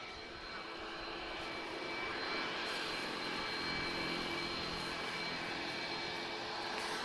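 Steady, loud roar of an Airbus neo jet airliner at Lisbon Airport on runway 02, a broad sustained engine rumble and whine that holds level throughout with no talking.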